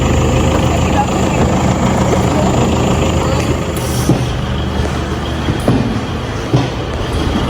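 A motorcycle engine idles steadily and close by with a continuous low rumble, brought down off a hill during a holiday trip in Rembau, with faint rustling and small knocks over the hum.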